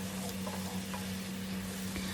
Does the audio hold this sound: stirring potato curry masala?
yes